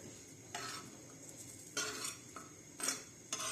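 Green chillies are dry-roasted in a pan without oil, with a spoon scraping and stirring against the metal in four short, separate strokes and a faint sizzle between them.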